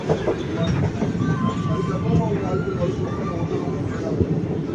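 Train pulling into Udumalaipettai junction on the Palani to Pollachi line, heard from inside as a steady rolling rumble with faint squeals of slowing wheels, while people talk in the background.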